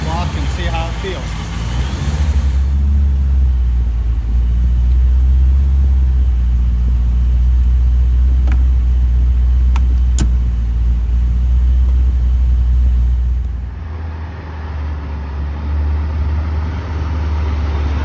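A C5 Corvette engine idles steadily while warming up after a ball joint replacement, a loud, continuous low rumble close by with no voices, the tone dropping slightly near the end.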